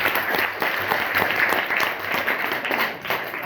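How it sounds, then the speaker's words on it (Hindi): An audience at a secondary school gathering in Kerakat, Jaunpur claps for a child, a dense, steady burst of applause that fills the room for a few seconds. "एक बार बच्चे के लिए ताली बजा दीजिए"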